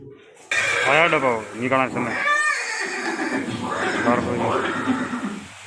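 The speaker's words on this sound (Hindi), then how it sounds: "ये दृश्य महाराणा प्रताप और सुविख्यात स्वामी भक्त घोड़े चेतक के अंतिम मिलन का है।" A horse neighs in a long, rising and falling whinny, loud and close, with a voice and other animal sounds overlapping in a dramatized historical scene at Haldighati.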